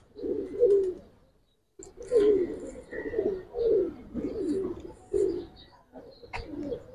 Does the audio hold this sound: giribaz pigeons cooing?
yes